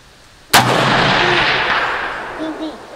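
A single loud gunshot from a custom-built 6mm ARC rifle cracks out on an outdoor shooting range, its sharp report rolling away in a long fading echo with a faint voice murmuring underneath.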